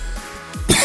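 A single person coughs once, a short harsh throat-clearing burst under a second long, close to the microphone, ending with a breathy rasp.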